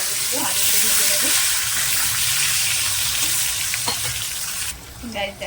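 Potatoes fry in hot oil in a kadai with a loud, continuous bubbling sizzle up close that eases off in the last moments.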